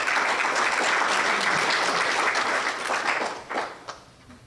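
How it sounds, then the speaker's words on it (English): Applause from a chamber of commerce luncheon audience greets the new chamber president, a dense steady wash of many hands clapping that thins out and tapers off near the end. "Round of applause, please."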